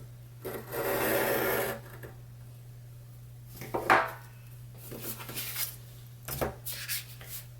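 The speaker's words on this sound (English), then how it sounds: "so I will just use my X-Acto knife to cut these down to all be 3-card checklists" An X-Acto knife slices through paper planner cards, giving a sustained raspy scrape followed by a few shorter scratchy strokes, close up over a steady low hum.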